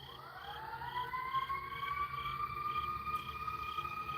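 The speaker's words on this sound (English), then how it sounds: "It sounds like something real bad has happened because now there are more sirens." Sirens wailing outside a tent at night, a steady rising and falling tone that holds throughout at moderate distance, with a faint chirping insect-like buzz underneath and no talking.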